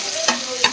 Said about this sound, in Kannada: ಇವಾಗ ಇದನ್ನ ಚೆನ್ನಾಗಿ ಗೋಲ್ಡನ್ ಬ್ರೌನ್ ಆಗೋವರೆಗೂ ಫ್ರೈ ಮಾಡ್ಕೊಳ್ಬೇಕು